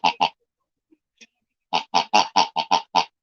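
Squeaky toy pig giving short, bright oinking squeaks: two quick ones, a pause with tiny clicks, then a rapid run of seven evenly spaced squeaks, close and clear with no background noise.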